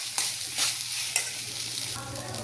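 Beaten rice upma with gooseberry is being stirred in a hot pan, giving a soft continuous sizzle with a few scraping strokes of the spoon, close and moderately loud.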